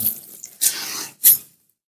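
Water runs from a new kitchen sink tap in a house under review, coming in uneven bursts of splashing flow with short gaps, close by and fairly loud, ending in quiet.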